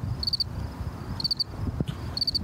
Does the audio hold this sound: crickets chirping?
yes